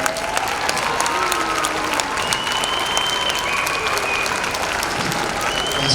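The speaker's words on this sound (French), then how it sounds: "Alors Olivier, on l'aime beaucoup, vous pouvez l'applaudir." An audience at an award ceremony breaks into steady, dense applause that fills the whole stretch, with faint crowd murmur underneath.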